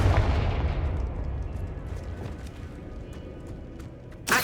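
A Confringo blasting curse explodes in the Hogwarts Legacy video game: a loud, booming blast decays into a rumbling tail, and a sharp burst follows at the end.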